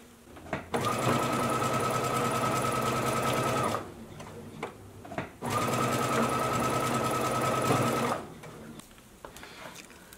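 Two long bursts from a sewing machine stitching horsehair braid onto a ruffle's seam allowance, a loud, close, steady motor whir separated by a brief pause, with a few small clicks before and after.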